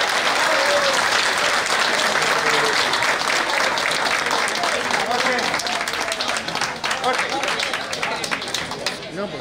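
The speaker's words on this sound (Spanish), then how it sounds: "pido un fuerte aplauso para él y un agradecimiento" Guests at a tournament dinner applaud in a loud, dense, sustained burst of many hands that fills the room and barely tapers toward the end.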